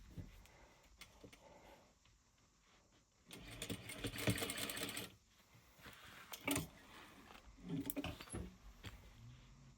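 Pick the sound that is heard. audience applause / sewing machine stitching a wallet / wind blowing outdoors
sewing machine stitching a wallet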